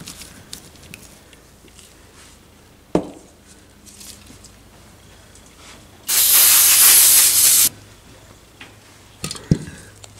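A can of brake cleaner sprays Marlin 88 rifle parts in one loud, steady hiss lasting under two seconds, with soft clicks and clatter of handled parts before and after.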